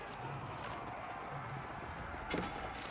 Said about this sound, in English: Horses back and forth